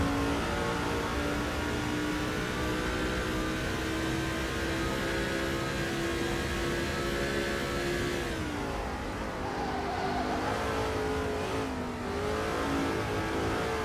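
A Camaro race car's engine in NASCAR 2005 drones steadily at high revs, loud and continuous, with a brief easing around the middle before the pitch climbs and holds again.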